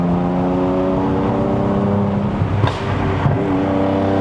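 A Lexus RC350 V6 holds a loud, steady engine drone, then gives two quick throttle blips as it rev-matches on downshifts, heard from inside the car with no talking.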